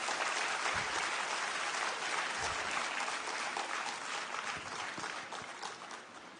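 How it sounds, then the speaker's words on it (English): Audience at a national education policy seminar applauding, dense sustained clapping that stays loud and close before gradually tapering off toward the end. "Those I pray you all give them big claps"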